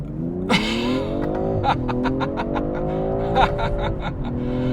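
A 2021 BMW M340i in Sport Plus launches hard with the throttle floored. The engine roars loudly and rises in pitch through several quick gear changes, with short dips at each shift.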